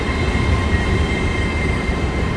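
Steady loud rumble inside a moving passenger train carriage on a trip from Edinburgh, with constant low wheel and track noise and a faint high whine, unbroken throughout.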